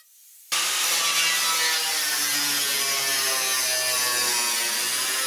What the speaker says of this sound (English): I'm going to cut this whole section off and weld it onto this one.